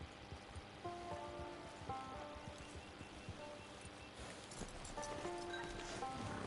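Horse hooves clip-clopping at a steady walking rhythm in the Red Dead Redemption 2 video game, moderately close and continuous, mixed with a soft ambient wash and faint tonal game sounds.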